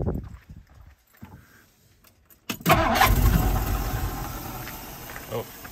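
A 1960 Ford Thunderbird cranks over after a quiet stretch with faint clicks, then the engine catches and settles into a loud, steady idle with a cooling fan whirring on top.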